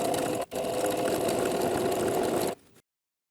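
A sewing machine runs steadily through several thick layers of fabric for a popcorn square bag, a close, even motor whir with a brief pause near the start before slowing to a stop.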